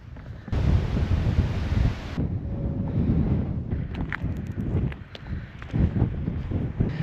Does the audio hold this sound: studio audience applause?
no